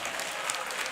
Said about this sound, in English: Applaud if you have crazy family.